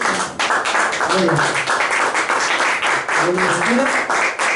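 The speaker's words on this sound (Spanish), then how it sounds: "Le damos una fuerte ofrenda de palmas a nuestro Dios." A church congregation claps together in praise to God, a dense, steady wash of many hands lasting several seconds, with voices mixed into the applause.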